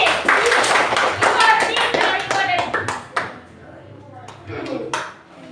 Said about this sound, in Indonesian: tepuk tangan dulu buat Adi